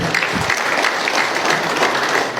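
An audience claps steadily throughout, a dense, even burst of applause with no voices standing out.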